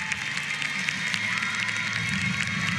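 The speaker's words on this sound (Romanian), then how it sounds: "Și aplauze pentru evoluția sa și în finala la Măciuci." A crowd applauds steadily after a rhythmic gymnast's clubs final routine at the World Challenge Cup in Cluj-Napoca 2021, giving a dense, even wash of clapping that continues throughout.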